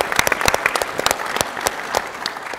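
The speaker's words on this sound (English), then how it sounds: "So again, applause for yourselves," Scattered audience clapping at an aquatic sports convention session, individual claps standing out distinctly in a thinning, uneven patter that fades toward the end.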